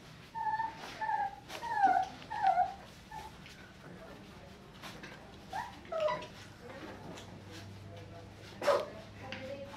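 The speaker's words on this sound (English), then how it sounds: "Hi, puppies. Hi, puppies." Young puppies whimper and yip in soft, high-pitched bursts, clustered early and then scattered, over a quiet background hum.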